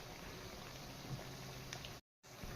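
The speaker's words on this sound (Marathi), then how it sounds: "ह्या मंद गॅसवर आपल्याला छानपैकी तळून घ्यायच्या आहेत." Traditional wheat kapnya snacks deep-frying in oil over a low flame give a steady, soft bubbling hiss that runs evenly, then cuts out briefly near the end before resuming.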